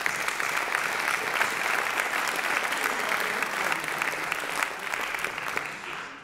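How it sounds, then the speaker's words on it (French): An audience at a Collège de France prize ceremony applauds in a dense, sustained wash of clapping that holds steady for several seconds before starting to taper off. "On va l'applaudir en absence"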